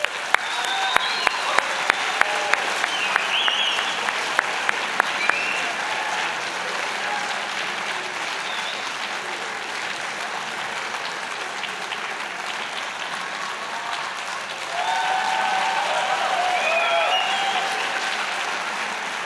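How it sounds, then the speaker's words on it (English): An audience at an evening college convocation gives a long, warm round of applause for the Mohawk College Band. A few sharp claps stand out early, then a steady, even wash of clapping swells again near the end. "A warm round of applause for Dusty McHale and the Mohawk College Band."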